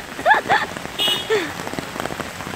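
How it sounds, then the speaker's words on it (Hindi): Heavy rain pours down in Islamabad with a constant dense patter on surfaces, while birds chirp clearly in the foreground over the steady wash of water. "बारिश बहुत तेज़ शुरू हो गई है"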